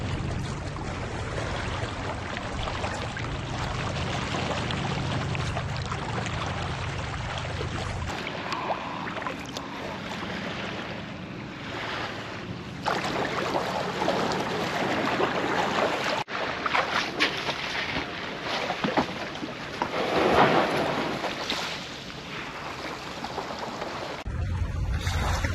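A kayak paddles in toward a beach in the San Juan Islands, with a steady broadband wash of water and waves, plus some wind, running continuously throughout and no talking.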